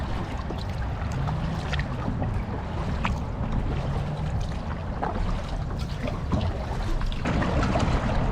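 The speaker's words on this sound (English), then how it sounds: "let's do some kayaking." Kayak paddling on coastal water around Dragon Point, a steady wash of water and wind noise with soft splashes and dribbles from the paddle strokes, close and continuous with no talking.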